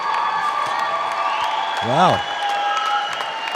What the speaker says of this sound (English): Crowd willing her on